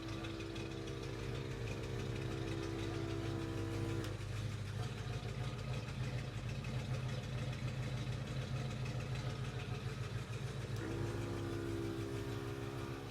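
An air compressor runs with a steady mechanical drone alongside the idling engine of an International Scout II, a continuous, even hum that holds at one level throughout, with no voices.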